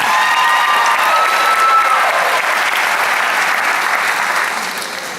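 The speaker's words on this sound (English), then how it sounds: "And for that, I want to give her applause." Sustained applause from a graduation ceremony audience, dense and steady clapping filling the space for several seconds before gradually thinning out, with faint crowd murmur mixed in.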